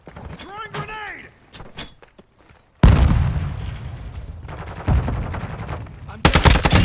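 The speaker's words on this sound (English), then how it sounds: "Throwing grenade." A grenade in Call of Duty: Modern Warfare II detonates with a sudden loud blast, followed by sustained close machine-gun fire and another booming burst, after a quieter opening of metallic clinks and chirps.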